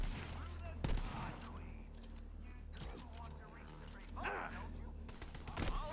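Rapid bursts of turret gunfire in a video game, loud and repeated, mixed with game effects and a voice talking over the action.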